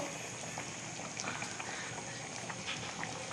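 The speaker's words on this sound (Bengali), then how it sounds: "অনেকক্ষণ ধরে ফুটছে ঝোল দেওয়ার পরে আর একটুখানি সময় ফুটাবো" Curry gravy boiling steadily in a pot, a continuous close bubbling hiss with faint small pops throughout, no voices.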